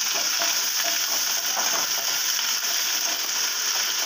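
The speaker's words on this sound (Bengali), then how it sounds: "এবার দেবো পেঁয়াজটা, একটু বেশি দিতে হবে। পেঁয়াজ দুটো বসিয়ে দিলাম।" Two onions sizzle loudly in a fully heated kadai with the gas turned down, giving a dense, continuous, close-up hiss of frying with light stirring throughout.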